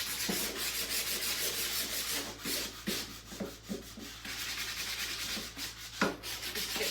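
Wood is sanded by hand with 80-grit sandpaper for a vintage-style lace and strawberry door hanger, with close, dry, rhythmic rasping strokes and brief pauses between passes.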